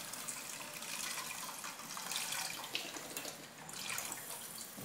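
Milk pours steadily into a saucepan already holding crème fraîche for a potato gratin, a continuous close liquid splash and gurgle lasting several seconds with no talk.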